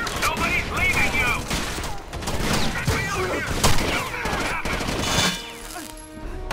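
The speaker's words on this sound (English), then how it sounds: "I got a turret." Turret gunfire in the video game Rainbow Six Vegas 2, with bursts of rapid automatic shots and booms crowding the first five seconds. Excited players talk over the shooting before it thins out near the end.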